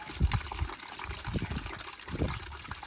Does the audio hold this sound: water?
yes